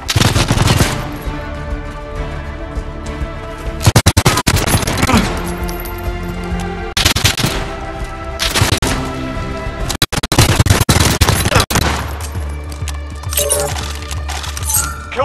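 Loud, close gunfire from the video game Call of Duty: Warzone, rapid automatic bursts repeated in long stretches with brief gaps and a few metallic clinks.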